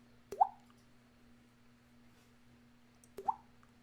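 Two single water drips fall about three seconds apart in a quiet, still space, each a small resonant plop, sparse and isolated against near silence.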